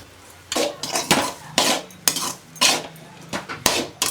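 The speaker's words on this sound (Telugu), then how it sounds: "ఈ నాలుగు కోడిగుడ్లు అయితే పగల కొట్టేద్దాం" Eggs being beaten in a bowl for egg noodles, the utensil striking the bowl in a series of quick clinking bursts that come close and loud, with short pauses between them and no talk.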